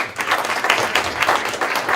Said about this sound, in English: Big round of applause, please, for Brian.